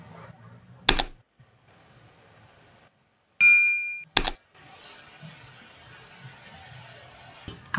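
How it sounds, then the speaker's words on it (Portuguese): A bright bell ding rings from an animated subscribe-button effect, alongside short sharp clicks and a shimmering chime burst, all set against near silence. "porque o sininho é muito alto"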